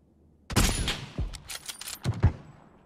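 Gunfire from the video game PUBG: a sharp burst of shots followed by a few scattered single reports and thuds, fairly close and loud, with no talk over it.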